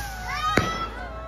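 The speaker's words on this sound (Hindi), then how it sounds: "यहाँ पे रॉकेट फोड़ने वाला है भाई, तो अभी रॉकेट फूटेगा" During village Diwali celebrations, a firework rocket bursts with a single sharp crack, heard at moderate distance over a steady background hum and faint whistling tones.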